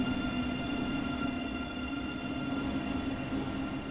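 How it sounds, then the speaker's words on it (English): German ICE high-speed train rushing past in Train Sim World 2, a loud continuous rumble of wheels and rail noise with a steady whine. "So there goes the first ICE."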